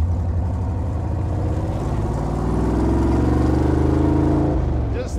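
A 1977 Jeep CJ-5 engine drones steadily from inside the cab on a test drive, a loud low rumble that swells slightly as it accelerates before easing near the end.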